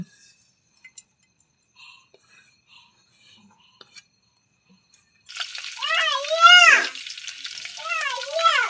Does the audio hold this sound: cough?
no